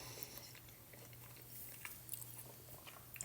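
Soft Salisbury steak with a slight crunchy outside being chewed close to the mic, faint wet mouth sounds and small bites repeating over a low steady background hum.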